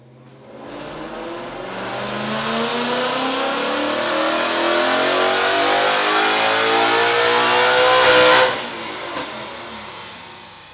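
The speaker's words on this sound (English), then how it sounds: "We're gonna throw it up on the dyno. We're gonna see what kind of power this thing makes." An Odin supercharged 2016 Mustang GT on a dyno, its engine climbing in one long, loud, rising rev for about eight seconds before cutting off sharply, with no voices over it.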